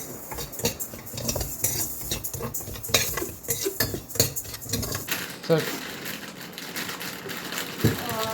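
Broken wheat roasting in a pan for payasam is stirred with a metal spoon, making rapid, close scraping and clinking against the pan that settles into quieter, sparser stirring toward the end.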